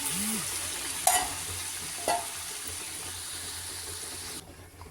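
Cooked lentils are poured into a pot of keerai sambar and stirred, producing a soft wet sloshing and sizzling with a couple of sharp clinks from a spoon against the pot; no talking.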